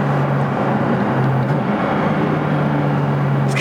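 Porsche GT4 RS mid-mounted engine holding a steady loud drone with a sustained low tone, heard from inside the cabin right in front of the engine, continuous throughout with no talk over it.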